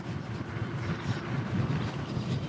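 Steady wind buffeting a microphone while riding an Ecotric Rocket e-bike at about 20 mph into a strong headwind, a continuous low roaring rush with no break.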